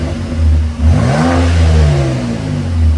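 A 2020 Nissan Frontier Nismo pickup with stock exhaust revs up and down on a cold start in a steady, throaty drone, rising in pitch then settling, close and loud with no talking.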